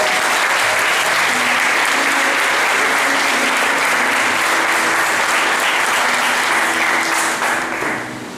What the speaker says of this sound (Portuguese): Pode acreditar, dá um aplauso.